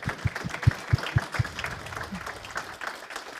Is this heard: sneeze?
no